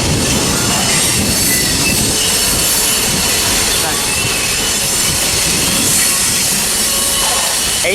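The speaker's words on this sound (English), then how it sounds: "our third grain train today" A grain train rolls past at Tehachapi, loud and close, its wheels squealing and grinding over a continuous rumble of railcars, with faint talk underneath.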